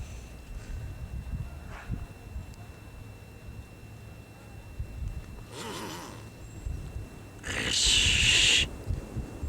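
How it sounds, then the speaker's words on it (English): A bird calls outdoors at a British wildfowl site, with a few faint hoot-like notes and a louder, brighter burst of calling near the end over steady background noise. "Lovely bird."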